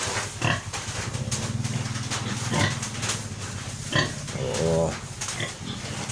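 A pregnant sow, 110 days into gestation, grunts in low, repeated bursts, close by and moderately loud. A person talks over and between the grunts.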